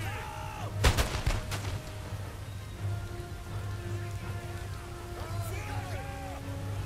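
Cannons fire during a rainy Empire: Total War battle: one heavy boom lands early, with fainter shots later, over steady rain and someone talking.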